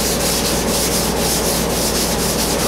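Sanding block rubbed by hand over Bondo body filler, a loud close rasping scrape repeating in quick regular back-and-forth strokes with no pauses.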